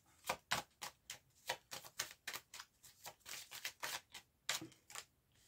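Tarot cards being shuffled close by: a quick, even run of soft slapping riffles, around four per second, quiet and alone with no voices.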